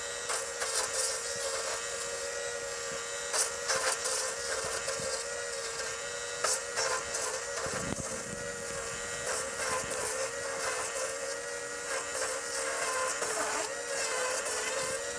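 A stump grinder chews steadily into a massive tree stump, a loud continuous buzzing mechanical whine with gritty surges and crackling chips, running without pause throughout.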